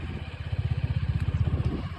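A motorcycle engine putters close by with a rapid, regular thumping beat, steady and unaccompanied.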